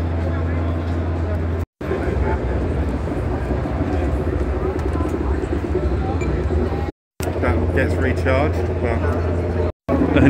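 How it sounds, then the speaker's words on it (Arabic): A played-back recording of fans operating on Mars at an MWC 2022 trade show booth gives a steady, dense whooshing rumble, broken by brief silent gaps. "الصوت اللي تسمعه هو صوت المراوح على المريخ"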